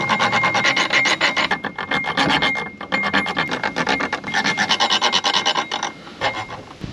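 A wrench working a seized ATV axle nut back and forth, a loud close rhythmic grinding rasp in rapid repeated strokes with brief pauses, no talking.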